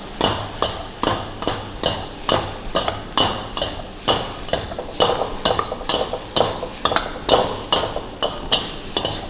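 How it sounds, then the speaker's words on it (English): Nasi goreng fried rice is pushed and turned in a hot wok with a ladle and spatula over high heat, giving a steady rhythm of sharp metallic scrapes and clanks over a constant sizzle. "You can use the ladle and spatula method by pushing and turning."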